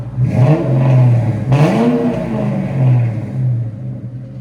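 Loud, close revving from a 1996 Ford Mustang Cobra 4.6L V8 with no catalytic converters and a Flowmaster 40 Series exhaust: a sharp throttle blip, then a sustained roaring rev that sweeps up and settles back, alone without voices.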